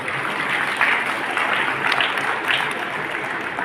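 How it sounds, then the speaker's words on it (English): Steady, dense applause from a school graduation ceremony crowd, honoring graduating students; continuous clapping fills the whole moment at an even level with no break. "Give a big round of applause."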